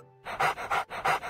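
A dog pants rhythmically up close in a video game, several quick breathy huffs in a steady pattern after a brief quiet start.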